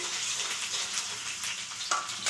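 Chopped ginger and garlic sizzle steadily in hot oil, a dense, close frying hiss with slight crackles throughout.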